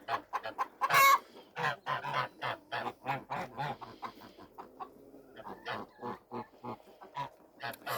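A hen clucks and squawks agitatedly, upset over its occupied nest, in a rapid series of loud, close, choppy calls with brief pauses, alone without talk.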